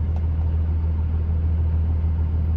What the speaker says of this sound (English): Also note that the idle is set to 800 on this one.